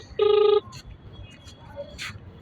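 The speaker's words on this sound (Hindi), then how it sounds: "ये लगातार घंटी जा रही है।" A telephone rings once during a call, a short burst of electronic ring tone with steady harmonic tones, followed by quieter room noise.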